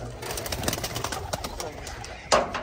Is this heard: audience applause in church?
no